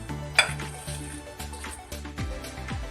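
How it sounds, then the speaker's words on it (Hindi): Potato filling mashed and mixed with a masher in a pot, with soft repeated thuds and scrapes and one sharp metallic clink near the start, close and fairly quiet. "हम इसको मैशर से मैश कर लेंगे। अच्छी तरह इसको मिक्स करेंगे।"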